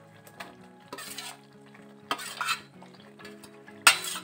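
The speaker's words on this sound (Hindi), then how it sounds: "अभी जो हमने मेथी भूंज के रखी थी ये डाल देते हैं इसमें।" Roasted fenugreek tipped into a pan of paneer curry gravy and stirred, giving a few scraping, clattering bursts of a spoon against the pan over a soft, steady sizzle, close and fairly quiet.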